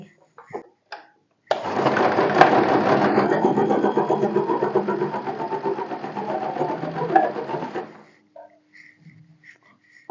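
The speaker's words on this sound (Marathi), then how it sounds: "एक दाबाच्या अंतराने स्टिच करून घ्यायचं डबल स्टिच करायचं आहे" A sewing machine runs steadily for about six seconds, double-stitching a folded fabric strip to make a cord, with a fast even rattle that starts abruptly and stops; brief handling clicks come before and after.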